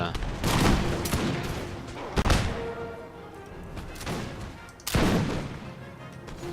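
Musket volleys from Empire: Total War line infantry crack out in several heavy, rolling fusillades, loud and close, with someone talking over the gunfire between bursts.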